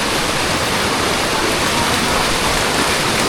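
A stream rushes with a strong current, loud and continuous broadband roar close by on a forest trek route, with no voices.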